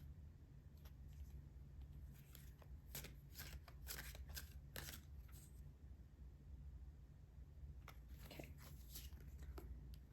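A deck of tarot cards is shuffled in several quick riffling bursts, a dense cluster of crisp flicks in the middle and another toward the end, faint and close against a steady low hum, with no talking.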